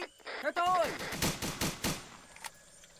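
Several sharp gunshots from an Arma 3 firefight crack in a quick irregular sequence, interleaved with a whistling tone and game effects, moderately loud with pauses between shots.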